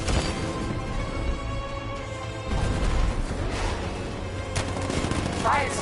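Several heavy booming blasts of 60mm tank cannon fire in the video game Batman: Arkham Knight, with crackling impacts and a rumbling background between shots.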